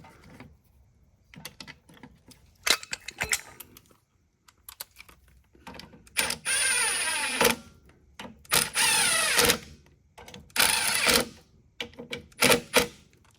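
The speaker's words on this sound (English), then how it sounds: "So now put the 3 bolts back in." Metallic clicking and ratcheting as three bolts are driven back into a Craftsman lawn mower, short bursts of rapid clatter separated by pauses, close and fairly loud with no talking.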